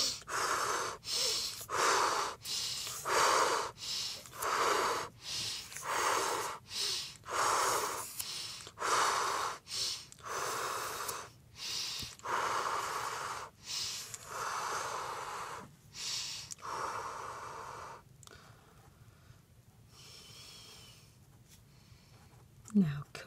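A group doing a guided breathing exercise takes rapid, heavy breaths in a steady rhythm of loud, close, rushing inhales and exhales that carry on for a long stretch before tapering off near the end.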